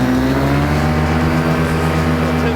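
A paramotor engine runs at a steady, loud, close-up drone with a smooth, buzzing, sewing-machine-like hum and no pauses.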